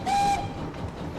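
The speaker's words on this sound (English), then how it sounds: "That was a very low whistle." A steam locomotive whistle sounds in a Thomas & Friends video game, one steady low-pitched blast lasting about a third of a second over continuous rumbling engine and rail noise.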